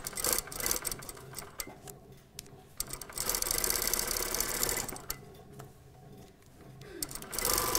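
A sewing machine runs a seam on a panel skirt toile from waist to hem, its close mechanical whir continuous with brief dips and restarts, including a back tack.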